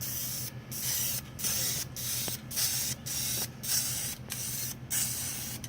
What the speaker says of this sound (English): So anyway, I'm going to paint the front now.